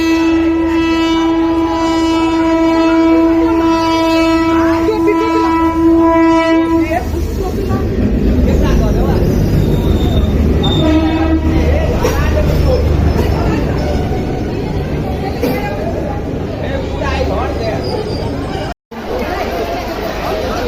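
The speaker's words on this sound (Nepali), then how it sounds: "रेल हाम्रो चाहिँ एकदमै नजिक आइपुगेको छ। हर्न बजाउँदै" A Janakpur–Jaynagar train draws near and sounds a loud, sustained horn for several seconds, then rolls past close by in a heavy rumbling clatter, with people chattering in the background.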